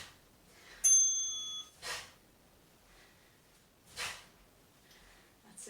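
A single bright bell rings once during a home Taekwon-Do workout, a short clear ding followed by heavy breathing and snorting from exertion.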